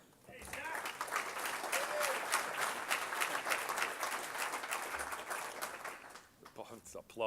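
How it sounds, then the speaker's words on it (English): Audience applause at an evening leadership conference welcome, a dense wash of clapping that swells and holds steady for several seconds before tapering, with cheers and voices mixed in under it. "It's applause."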